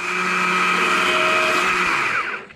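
A chainsaw carving a small wooden heart, running at a loud, steady high-revving whine for about two seconds before quickly dropping off as the saw is eased back.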